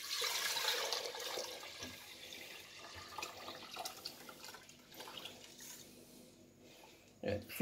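Daily supermarket milk for homemade yogurt pours from a container into a porcelain soup bowl, a faint, steady liquid splashing that runs for several seconds and ends with a brief louder splash.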